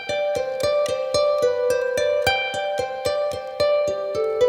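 Spring reverb and amp-style textures from a Universal Audio Dream pedal color a plucked melodic instrument part, with evenly spaced, bright, ringing notes sustaining into one another at a steady, close, moderately loud level, no voices.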